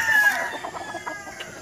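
A Boston Roundhead broodcock rooster crows in a backyard, one loud, close, drawn-out call that tails off over about a second and a half.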